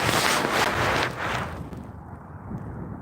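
Wind buffets a microphone outdoors at a campsite while a tent is being pitched, loud rushing gusts that ease off after the first second and a half into a lower rumble.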